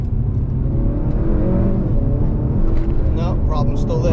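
A tuned Honda Accord 2.0t with a high-RPM sputter fault accelerates hard through a first-to-second-to-third gear pull, its engine a loud, close, continuous roar that climbs in pitch and strains near the end.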